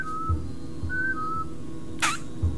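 A character in Oddworld: Abe's Oddysee New 'n' Tasty whistles short melodic notes, a couple of brief tones with a quick rising chirp, alongside soft game thumps and ambience.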